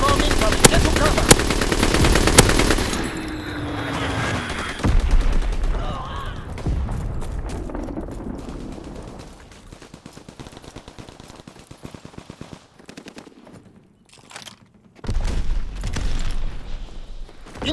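Enemy artillery bombardment in Call of Duty WWII Team Deathmatch on the Gustav Cannon map: dense bursts of rapid gunfire open the scene, then heavy booming blasts and scattered shots rumble on, swelling again near the end.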